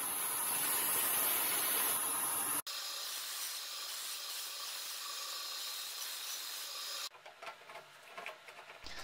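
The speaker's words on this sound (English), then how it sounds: "Rough cutting on the bandsaw." Bandsaw rough cutting a bamboo board in a workshop: a steady, loud broadband whir and hiss of the blade through the board, dropping to a lighter running hum partway and then turning choppy and fluttery as the cut finishes.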